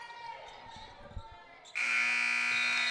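End-of-game buzzer at a girls varsity high school basketball game: a loud, steady electronic horn cuts in after a quieter stretch of gym noise and a commentator's voice, then holds without a break.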